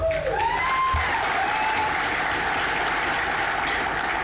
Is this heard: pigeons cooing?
no